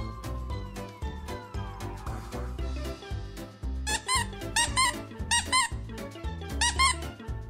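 Repeated high squeaks come in quick clusters over several seconds alongside a thumping music bed.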